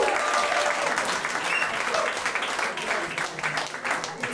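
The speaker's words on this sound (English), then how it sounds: "It's a great applause break" Comedy club audience applauding and whooping during a stand-up set, a dense, steady wash of clapping that holds loud for several seconds with a few cheers and voices mixed in.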